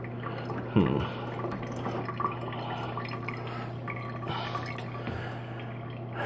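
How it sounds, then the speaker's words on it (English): Water trickling from a pipe at low pressure, a thin steady splashing and dripping with a low hum beneath and a few small knocks. "now it's just trickling"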